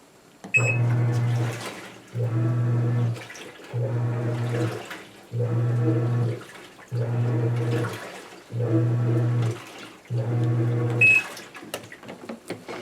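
A fully automatic washing machine in an apartment bathroom runs its wash cycle: repeated humming motor pulses of about one and a half seconds each, separated by short pauses, with a short electronic beep at the start and another near the end.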